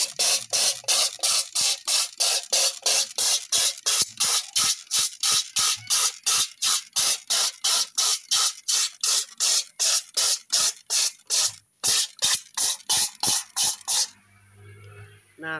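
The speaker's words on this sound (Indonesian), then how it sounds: "cukup disemprot menggunakan ini sudah bisa bersih" Rapid, steady pumping bursts of a trigger sprayer misting Bremol BP 1 cleaner onto a screen printing screen, each spray a sharp close hiss in a regular rhythm, ending with a pause and a softer scraping sound.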